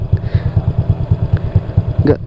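A Honda Vario 150 scooter fitted with a Black Devil R2 exhaust idles up close, its low, steady engine pulse loud and even throughout, with a brief rise near the end.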